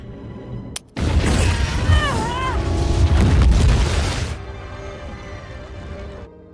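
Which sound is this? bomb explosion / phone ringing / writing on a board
bomb explosion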